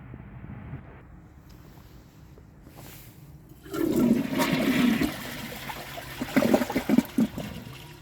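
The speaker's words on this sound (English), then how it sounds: "So let's give this a flush and see how it does on tests." A 2012 Jacuzzi Perfecta early 1.28-gallon toilet with its original flapper flushes, a brief weak rush of water that surges, gurgles and fades quickly after a quiet lead-in, heard up close and alone.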